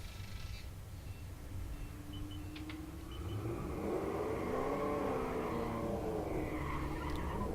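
A 5th gen Camaro does a burnout at a drag strip, its engine swelling into a loud sustained roar with tire squeal midway through and holding steady to the end, close and constant.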